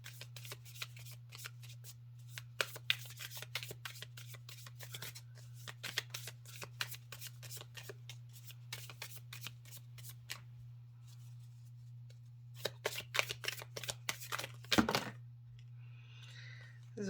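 A deck of tarot cards riffled and shuffled during a card reading, with long runs of rapid crisp flicking, a brief pause, then more shuffling and a sharp clack, over a low steady hum.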